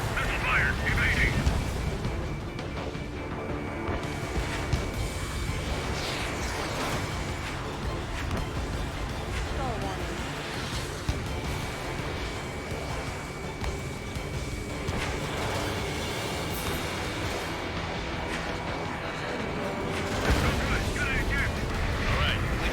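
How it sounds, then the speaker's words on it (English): Missile launches and explosions in the air-combat game Ace Combat 7, with repeated booming blasts and rumbling gunfire over a steady jet engine roar as voices talk throughout. "Missile fire, evading."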